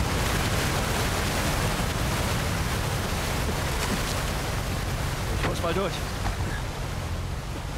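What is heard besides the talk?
waterfall in Uncharted 4 video game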